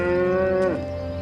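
A buffalo grazing in a forest lets out a single close, loud moo. The low, steady tone drops in pitch at the end, with no other sound around it.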